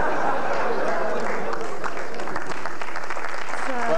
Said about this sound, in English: Oh, they're applauding that.